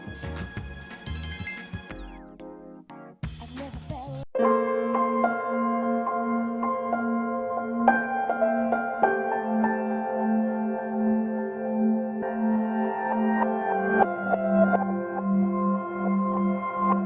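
A cell phone ringtone plays in the video game Persona 3, a steady electronic melody of sustained tones that repeats for many seconds, loud and clear, following a brief burst of other game sounds.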